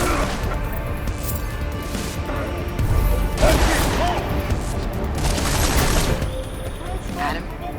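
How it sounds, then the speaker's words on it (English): Rapid bursts of video game gunfire from Deus Ex: Mankind Divided on PS5 crackle continuously amid crashes and booms, with voices shouting faintly underneath throughout. "I'm getting reports of gunfire in Apex Center."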